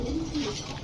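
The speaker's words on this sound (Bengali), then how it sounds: "দেখেন কবুতর গুলা গররা নর, তিনোটাই নর কবুতর।" A Gorra male pigeon gives a short, soft, low coo close by. The call is very brief and faint, with a little background noise.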